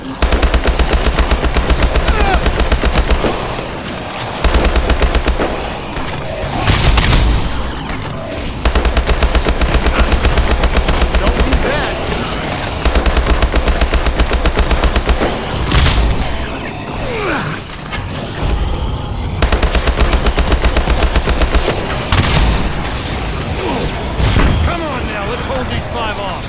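Rapid automatic gunfire from HBRa3 and MP11 guns in the Exo Zombies video game, in long sustained bursts broken by short pauses and mechanical reload clatter, loud and close throughout.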